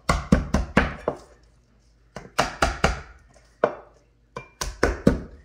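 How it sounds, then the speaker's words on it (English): A knife blade slams down on garlic cloves in quick clusters of sharp, loud thuds, three or four blows per cluster with short pauses between, close up. "Give them a nice smash and just peel"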